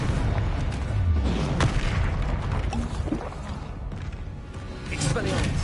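Booming explosive blasts of the Confringo spell in Hogwarts Legacy on PS5, heavy thuds and crashes amid continuous loud combat noise, with a voice speaking over it.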